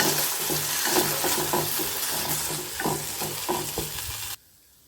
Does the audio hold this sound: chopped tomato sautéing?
yes